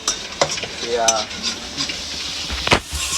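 Masala frying in oil in a pan for a chicken curry, a close sizzle broken by a few quick scraping stirs and utensil clinks against the pan, short and uneven.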